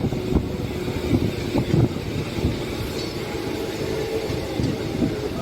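Passenger train on the Bengaluru–Talaguppa line near Tarikere heading toward Shivamogga, a moderate rolling rumble with a few soft knocks and faint wheel clatter, no talking.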